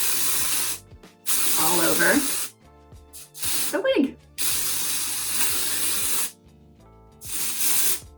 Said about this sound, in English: really you're just going to spray it